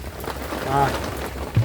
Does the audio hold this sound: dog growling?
no